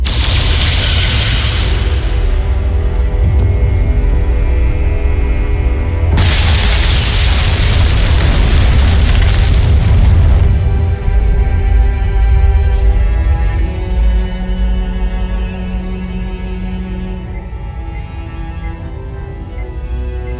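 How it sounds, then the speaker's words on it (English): Photon torpedoes fired in the Star Trek: Resurgence game and the target exploding, two loud booming bursts with rushing noise over a deep rumbling ship drone that slowly settles. "Firing photon torpedoes."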